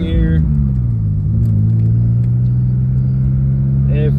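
A 1989 BMW M3 fitted with a turbocharged S52 engine cruises lightly. Its steady mid-pitched drone holds close and loud inside the car, with a slight dip in pitch and brief voices at the start and end.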